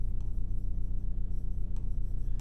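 Steady scratching of a pen writing on paper while working out a geometry problem on triangles, close and continuous with a quick repeating rhythm, heard alone.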